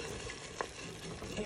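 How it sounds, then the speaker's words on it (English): A spoon works briefly through an oxtail sauce mixture in a pot for Rasta pasta, making a short, soft scraping stir with one small clink, near and alone. "and I'm just going to give it a stir."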